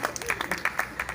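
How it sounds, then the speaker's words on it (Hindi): Audience clapping at a poetry recital, a scattered patter of hand claps in uneven bursts under a faint murmur of voices across a short stretch. "हाँ तो ताली बजाओ यार, कोई नरेगा मजदूर थोड़ा ताली बजाया करो।"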